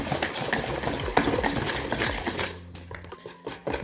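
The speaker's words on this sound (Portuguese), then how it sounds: "gosto de usar o fouet para poder bater bolo" A whisk beats cake batter by hand in a bowl, rapid rhythmic scraping and tapping strokes close up, slowing and thinning out toward the end, with no talking.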